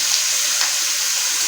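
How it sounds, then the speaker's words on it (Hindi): Goat meat frying in a pot for Kabuli pulao gives a steady, close hiss and sizzle with a couple of faint stirring ticks and no talk. "गोश्त को व्यूअर्स आपने अच्छी तरह से बीच में फ्राई करना है, अच्छी तरह से रोस्ट करना है।"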